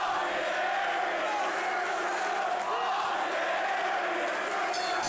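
A wrestling crowd at an International Wrestling Federation show roars for Austin Aries, a dense, steady wall of cheering and shouting that fills the whole stretch with no break.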